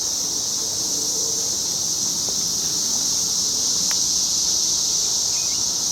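Cicadas in a summer garden with astilbe and hydrangeas keep up a steady, loud buzzing drone throughout, joined by a few faint chirps and light rustling.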